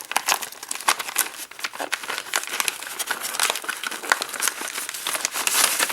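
Tape is torn off a padded envelope in a continuous, close crinkling and ripping sequence with quick irregular crackles lasting the whole stretch.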